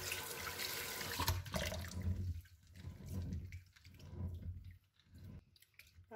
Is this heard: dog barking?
no